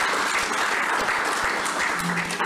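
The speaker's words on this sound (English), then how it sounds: "now I'm even going to call for a much louder round of applause" Audience at a live book launch for Working with Rawlings by Professor Kwamena Ahwoi, applauding loudly and steadily throughout, with dense, continuous clapping that fills the room.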